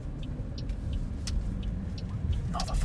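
A Peugeot 108 hatchback driven flat out on the road, its small engine droning as a steady rumble under continuous road and tyre noise, with a few faint clicks and knocks; no talking.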